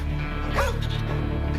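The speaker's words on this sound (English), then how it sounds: "She has a dog with her." A dog on a frozen mountain during a rescue, giving a brief yip or whimpering bark near the middle, close by, over steady wind and background noise.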